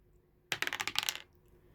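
Dice tumble and clatter across a tabletop during a fantasy wargame, a quick burst of sharp rattling clicks lasting under a second, fairly close and with no talking over it.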